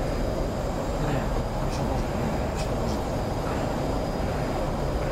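A fighter plane's engine drones steadily and close through a video-game dogfight, a dense unbroken roar with faint higher whines, and a voice speaks over it.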